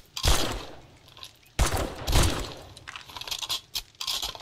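Gunfire in the zombie survival game 7 Days To Die: two loud, close bursts of shots, each followed by ringing decay, then a run of quicker, lighter cracks and clatter.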